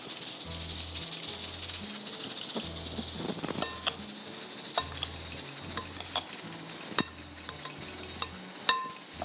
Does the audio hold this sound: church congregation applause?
no